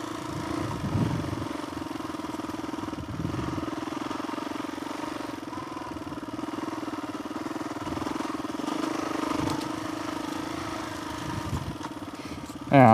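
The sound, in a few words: Suzuki DRZ400E motorcycle engine lugging on trail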